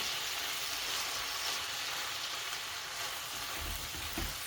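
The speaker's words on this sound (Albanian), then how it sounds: "Do ta kaurdisim edhe këta 2-3 minuta" Rice frying with tomato-pepper sauce in a pan, a steady close sizzle and crackle running unbroken, with a few low thumps of stirring near the end; no talking.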